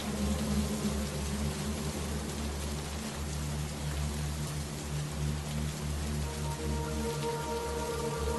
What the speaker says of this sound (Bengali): সেই কখন থেকে বৃষ্টি শুরু হয়েছে, এখনো থামছে না